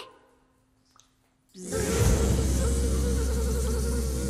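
A quiet lull gives way to a sudden, loud, dense buzzing swarm of bees that swells in and holds steady, close and continuous.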